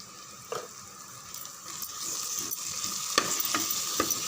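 Tomato rice with garam masala sizzles steadily in a hot pan as it sautés, with intermittent scraping and clinks of a spoon stirring, close up and moderately loud.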